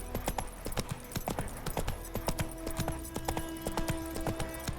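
Roach the horse from The Witcher 3 trotting, with crisp, rapid, evenly spaced hoof clip-clops that stay close and steady throughout.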